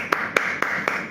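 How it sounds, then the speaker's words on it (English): Four evenly spaced hand claps in quick succession, close and crisp against a quiet indoor background. "I'm clapping for each of these opinions"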